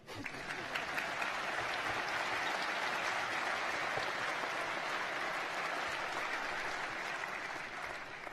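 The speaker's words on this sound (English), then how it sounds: "And please, yes, you can applaud." A graduation ceremony crowd applauding steadily, dense clapping at a constant level for the whole stretch with no voices standing out.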